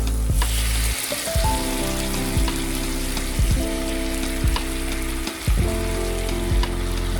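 Onions frying in a buttery sauce in a pan, a steady loud sizzle with scraping stir strokes recurring every second or so, no voices.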